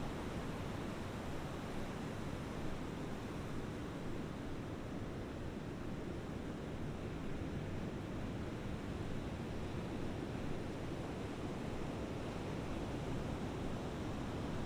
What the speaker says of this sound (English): the waves are breaking in time with your breath.